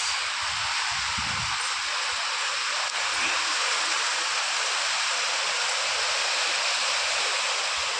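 Heavy rain pouring steadily in strong wind, a dense, loud, unbroken hiss filling the whole stretch with faint low gusts underneath, no voices.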